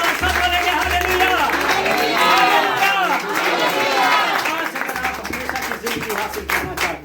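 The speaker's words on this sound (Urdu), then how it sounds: "آئیے کھل کے تالیاں بجاتے ہیں" A church congregation at an Urdu-language service in Bangkok claps together in a lively, rhythmic wash, with voices and singing mixed over the clapping throughout.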